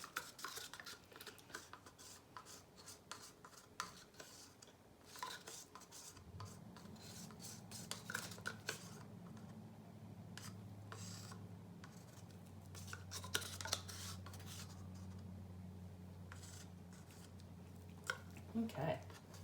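Acrylic paint in a berry color is scraped out of a cup with repeated short scraping and rubbing strokes. Each stroke is close and fairly faint, over a low steady hum, with someone talking at times.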